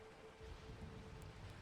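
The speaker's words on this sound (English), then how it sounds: "The sound of the rain outside the circle begins to fade away." Rain falling outdoors, a soft, even patter and hiss heard at low level as calm ambience, with a faint steady tone running beneath and no talking.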